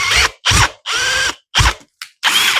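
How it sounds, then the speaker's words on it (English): An 8mm drill bit bores gently into a spalted beech platter blank in six short, whining bursts separated by brief pauses, close and fairly loud. "I've got an 8mm drill bit, so I'm just going to go in very, very gently."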